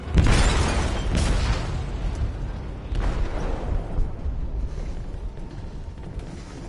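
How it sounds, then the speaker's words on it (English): A large explosion detonates in a ship's hold in Detroit: Become Human, a loud opening boom followed by rumbling debris and a second swell of blast noise around three seconds in, decaying into a heavy low roar. "They detonated an explosive in the hold."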